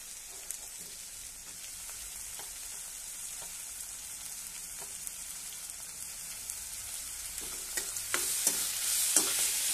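Finely chopped tomatoes frying with onions over high heat while being stirred, a soft steady sizzle with scattered spoon clicks that grow busier and louder toward the end.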